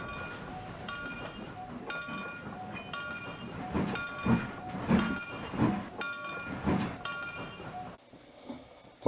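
A train in the Trainz railroad simulator rolls into Bossburg station, its steady rumble and clatter overlaid by repeated tonal horn or whistle notes, with heavier thumps midway and a quieter tail.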